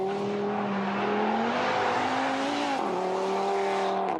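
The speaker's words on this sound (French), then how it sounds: "Vous entendez ce bruit, ce son, cette mélodie si particulière du 5 cylindres?" An Audi TT RS five-cylinder engine runs steadily at a low, throbbing pitch, its tone rising slightly then dropping, close and loud throughout with no talking.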